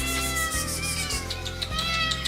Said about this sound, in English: the day begins by feeding all of the demanding cats